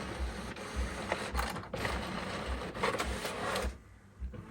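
An Epson ET8550 inkjet printer working through a print job, its mechanism whirring and clicking steadily with a faint rhythmic low thump, quiet and close, then easing off near the end.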